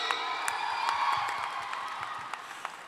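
Crowd applause with scattered cheers at a movie success celebration in a Thiruvananthapuram mall, a steady wash of clapping that holds throughout at moderate volume from a large audience.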